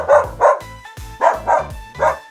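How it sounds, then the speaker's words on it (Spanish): A dog barks five times in a steady, evenly spaced rhythm, each bark loud, close and clear with short pauses between, no talking. "Este es un perro."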